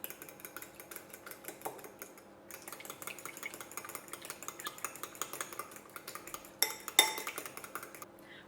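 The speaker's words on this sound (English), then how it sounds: "So we're just going to break that into the bowl. And whisk it using a fork." A fork whisks an egg in a bowl with quick, steady clinking strokes, fairly faint throughout, with a couple of sharper knocks near the end.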